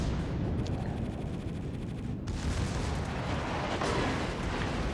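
Battleship gunfire and shell hits in World of Warships with the Tirpitz facing an Amagi, a steady heavy rumble of distant artillery booms and impacts, one sharp blast standing out midway, with no talk.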